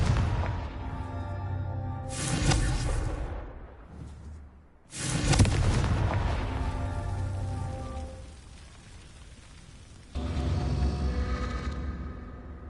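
Confringo blasting spells cast in the Hogwarts Legacy video game, heard as a few loud whooshing blasts with rumbling low-end bursts, separated by quieter stretches of game ambience.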